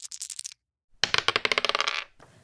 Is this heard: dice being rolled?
yes